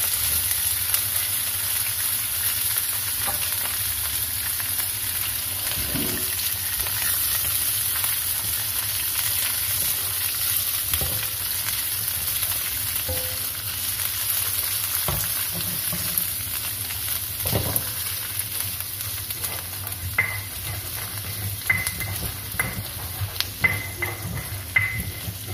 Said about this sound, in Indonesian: Sekarang Abi udah goreng ininya dulu, terinya dulu ya.